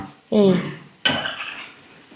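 A metal spoon scrapes and clanks against a pot of potato rice twice, a short stirring sound close by with brief ringing after each stroke.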